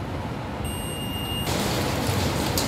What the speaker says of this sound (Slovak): Takže ak prestane pípať, v tom momente máme správny bod rozopnutia.